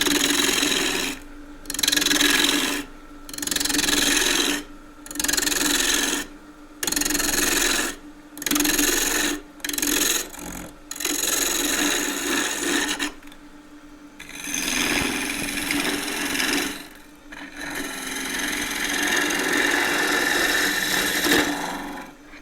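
Deep-fluted bowl gouge cutting wood on a lathe, giving bursts of loud, harsh rasping and shaving noise broken by short pauses, then a longer continuous cut near the end, close and clear with no talking.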